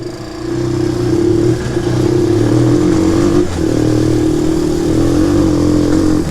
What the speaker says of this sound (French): Bon le bruit bah c'est de l'origine hein.